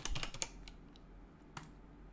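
Short burst of computer keyboard typing, a quick run of close, quiet key clicks followed by a couple of isolated taps in an otherwise quiet room.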